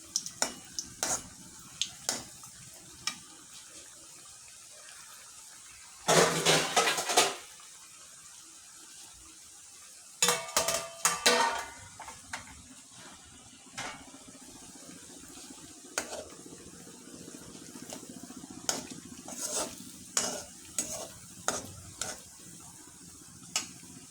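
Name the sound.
palm fruit fritters (taler bora) frying in oil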